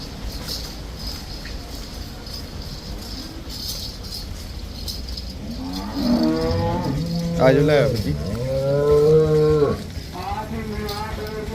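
Cows moo loudly and close by, two long bellowing calls back to back over a steady background hiss.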